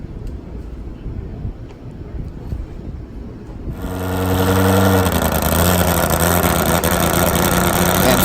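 A nitro-burning 1,500-horsepower four-cylinder Suzuki top fuel motorcycle engine fires up abruptly after a stretch of low background noise, then holds a loud, harsh, steady roar close by.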